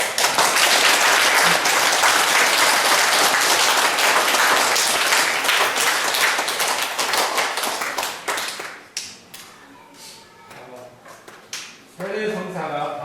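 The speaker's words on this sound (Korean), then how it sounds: "특별하게 환영의 박수를 보내드립니다" A church congregation at an Anglican Mass claps in welcome for newcomers, a loud dense burst of applause that holds steady before thinning into scattered claps and fading, then a brief final flurry.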